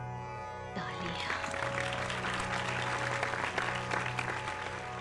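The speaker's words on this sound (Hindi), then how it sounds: "तालियां।" Applause for a performing artist starts abruptly after a brief pause, then a steady, moderately loud wash of clapping from an audience continues to the end.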